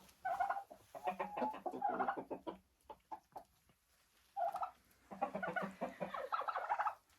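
Turkeys kept in a greenhouse gobble and cluck in several loud, close bursts, with a pause of quieter scattered calls in the middle before the flock chatters again.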